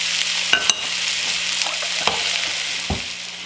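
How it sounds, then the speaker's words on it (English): Peaches sauteing in a cast iron frying pan give a steady, close sizzle, broken by a few sharp stirring scrapes and clicks, with no voices. "put them all into the cast iron frying pan and let them start to fry down just a little. We're cooking them, just sauteing them on each side"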